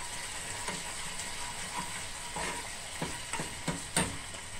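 Bean pickle fried with onion in a pan, heard as steady close sizzling with a few brief stirring scrapes and clicks, no talk.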